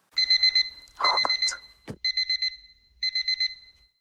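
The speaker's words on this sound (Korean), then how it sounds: "작은 알람 소리에 한 남자가 잠에서 깨" A small alarm clock rings at dawn in quick bursts of four shrill electronic beeps, repeated several times in a bedroom, with a brief rustle and muffled movement between the first bursts.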